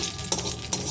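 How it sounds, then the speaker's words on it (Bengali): Two garlic cloves fry in a little oil in a wok, a steady close sizzle broken by two sharp stirring scrapes. "2 কোয়া রসুনকে একটু ভেজে নেব"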